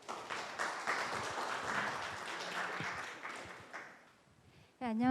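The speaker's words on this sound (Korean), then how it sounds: "큰 박수로 맞이하여 주시기 바랍니다." A conference audience applauds a speaker at the founding ceremony of the Korean ultrapure water society, a dense wash of clapping that fades out over several seconds before another sound cuts in at the end.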